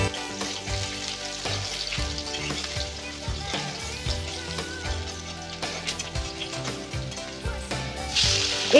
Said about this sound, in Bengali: এবার একটি কড়াইতে তেল গরম হলে পেঁয়াজ কুচিগুলো বাদামি করে ভেজে নিতে হবে।